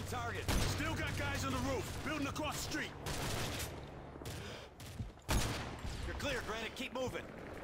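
Gunfire in the video game Modern Warfare 3, in the Scorched Earth mission: scattered shots and bursts cracking through the scene, with a couple of loud close blasts, heard under frequent shouted voices.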